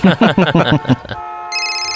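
A voice speaks briefly, then a phone starts ringing with a bright, steady electronic tone that continues alone.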